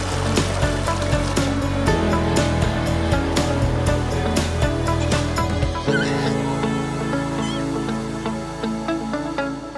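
A stream rushes steadily and close by with a dense, unbroken wash of water, heard alone with no talk.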